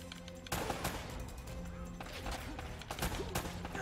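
Gunfire in the video game Uncharted: Drake's Fortune, with several sharp shots cracking out over a steady bed of game noise and a few bursts clustered toward the end.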